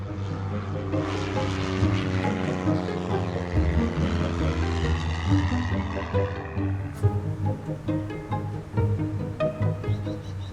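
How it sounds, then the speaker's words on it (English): A small propeller airplane takes off, its engine a loud, steady droning buzz with strong harmonic tones that roughens and fluctuates as power builds, heard close with no talk over it. "clear for takeoff"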